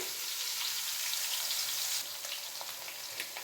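Small chopped radish pieces frying in a hot pan on a home stove, a continuous crackling sizzle, close and fairly soft, easing slightly partway through with a few scattered pops.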